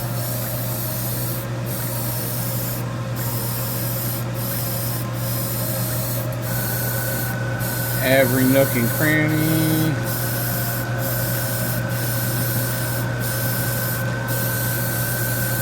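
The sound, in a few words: spray painting in a spray booth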